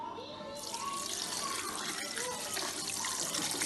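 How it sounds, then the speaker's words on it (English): Water pours steadily into a cooking pot of egusi melon stew, where washed salty turkey is already half cooked, making a continuous close splashing and running sound with no talk. "I'm going to add water."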